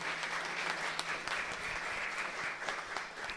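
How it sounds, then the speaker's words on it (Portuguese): Church congregation applauding a member's birthday, a steady wash of clapping from many hands held at an even, moderate level for a few seconds with no voices over it. "vamos aplaudir nossa querida irmã Anice."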